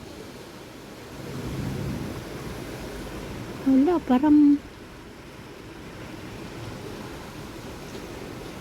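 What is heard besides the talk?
heavy rain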